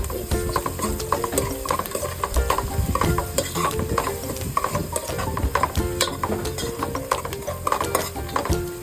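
Ginger garlic paste frying in a pan for gongura mutton, with steady sizzling and crackling broken by repeated scraping and stirring clatter of a utensil against the pan, close and fairly loud throughout.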